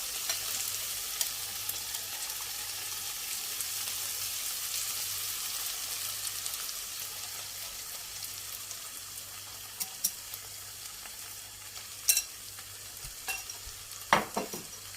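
Beaten eggs frying in a pan for Turkish menemen make a steady, soft, close sizzle, with a few sharp utensil clicks near the end and no speech.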